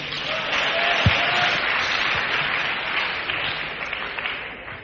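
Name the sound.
audience applause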